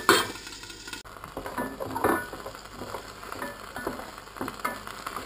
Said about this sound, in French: Je fais revenir le rôti dans un peu d'huile d'olive.